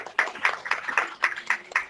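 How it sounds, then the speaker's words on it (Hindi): A congregation claps in steady rhythm for a brother at a Christian gathering in Pakistan, with about eight evenly spaced, fairly loud beats carrying on without speech. "Yes, this clapping for you,"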